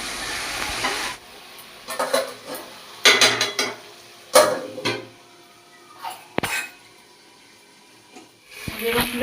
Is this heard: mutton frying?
yes